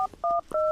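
A telephone number is dialed, three short, loud keypad tones in quick succession, close and clear with no talk over them.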